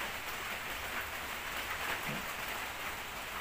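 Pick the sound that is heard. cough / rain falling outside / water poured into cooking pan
rain falling outside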